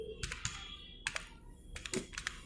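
Close computer keyboard typing in MS Word, quick bursts of clicky keystrokes separated by short pauses, fairly quiet with no talking.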